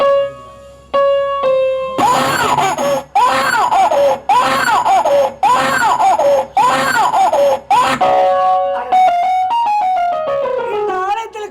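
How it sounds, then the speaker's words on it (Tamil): An infant cries in a temple scene of a Tamil village stage drama, with loud, repeated wailing bursts in a steady rhythm, then sustained, wavering tones. "இந்த ஆலயத்தில் குழந்தை அழுகின்ற சத்தம் கேட்கிறது."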